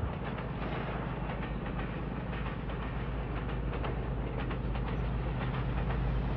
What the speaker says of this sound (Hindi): अब रहमान बाबा एक्सप्रेस 1:51 लेट होने के बाद कालूवाल रेलवे स्टेशन से मेन लाइन थ्रू पास कर रही है।